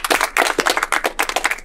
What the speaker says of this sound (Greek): Πάμε ένα χειροκρότημα όλοι μαζί.